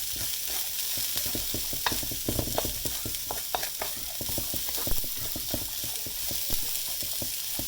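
Vegetables seasoned with salt and pepper stir-frying in a pan, with a steady sizzle broken by frequent sharp clacks and scrapes of a utensil against the pan, close and fairly loud, with no voices.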